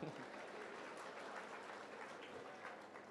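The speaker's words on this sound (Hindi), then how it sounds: "अच्छा, जोरदार तालियां।" Crowd applause at an outdoor religious discourse in Indore, a broad wash of clapping from a large audience, steady and faint, easing slightly toward the end.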